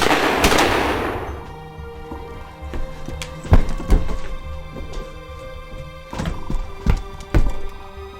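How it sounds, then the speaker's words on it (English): Several gunshots fired at a stalking creature in a horror film, sharp loud reports spaced irregularly, a few close together, after a burst of noise at the start, with no talking. "me and Randy fired some shots at him"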